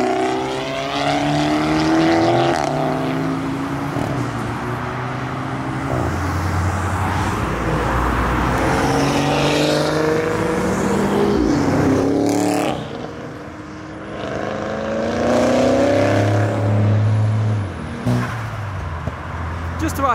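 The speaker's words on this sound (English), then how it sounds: "I hear the turbo noises from the 14." Modified cars revving hard as they pull out of a car meet, engines rising and falling in pitch with turbo whoosh, loud and close, while onlookers shout and talk excitedly over them.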